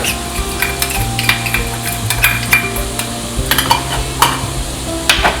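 Chili sauce, salt, brown sugar and sesame oil being stirred together into a marinade for Asian-style steamed fish, with close, repeated scraping and light clinks of a utensil against the bowl in an uneven rhythm.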